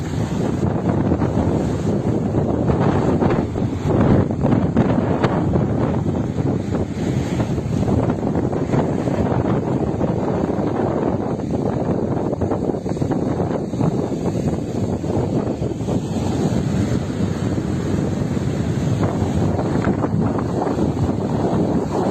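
Sea waves wash onto a beach at Kudankulam while strong wind buffets the microphone, a loud, continuous roar with surging surf and no voices.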